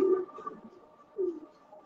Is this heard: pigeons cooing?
yes